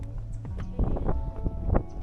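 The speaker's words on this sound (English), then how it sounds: "I can't do nothing about this wind." Wind gusting across an outdoor bank during a crappie fishing outing, a steady low rumble with buffeting bursts that swell and fade over two seconds, no talking.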